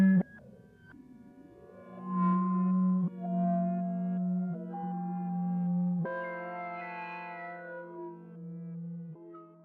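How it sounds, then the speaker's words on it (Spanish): An eerie synthesized track from the video game Omori plays alone, with droning, wavering electronic tones, sliding pitch sweeps and echoing layers, and no clearly audible voices. "Lo raro es que hay voces entre ruido, entre los sonidos, como números contado lentamente en alemán."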